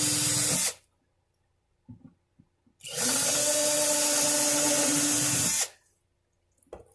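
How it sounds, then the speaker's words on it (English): Two bursts of a power drill running a 1/16 inch bit straight down through an acoustic nylon-string guitar top, the first short and the second about three seconds long, with quiet gaps and small handling knocks between. "About a 1/16 inch drill bit,"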